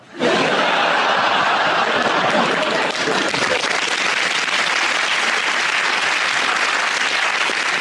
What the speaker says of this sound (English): I think a few of the men started clapping before the end of that joke